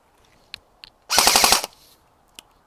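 An airsoft VSS rifle fires one short full-auto burst of about eight rapid, sharp cracks. A few faint clicks come before and after it.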